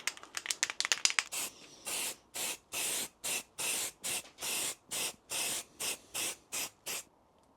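A spray gun lays a second coat of paint on a Range Rover L322 body panel during accident repair, a rapid flurry of short hisses followed by a steady series of about a dozen even, close bursts.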